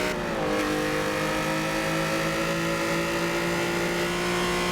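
A race car engine accelerates in a racing video game at Silverstone, a loud, sustained rising whine with a steady high pitch and no talking.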